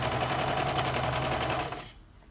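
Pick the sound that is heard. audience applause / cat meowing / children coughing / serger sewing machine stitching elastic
serger sewing machine stitching elastic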